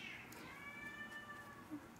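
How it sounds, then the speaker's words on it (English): Cats meow and cry in a room, a few drawn-out plaintive calls near the start and middle over a quiet background. "My cats are crying."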